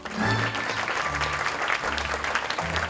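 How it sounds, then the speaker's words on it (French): A theatre audience at a Charlie and the Chocolate Factory show in Camphin-en-Pévèle gives a dense, steady burst of clapping after a golden-ticket winner is introduced, loud and sustained throughout, with low tones murmuring underneath. "Mesdames, Messieurs, applaudissements"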